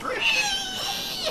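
A rabbit in the video game Tokyo Jungle squeals: a shrill, wavering high-pitched cry, cartoonish and electronic-sounding, continuing steadily for over a second with faint background noise.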